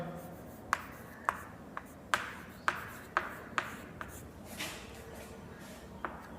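A teacher writes a list by hand on a board during a Class 6 computer lesson, with a series of sharp, separate taps and short scratching strokes spaced irregularly. The strokes are close and fairly faint, and no speech is heard.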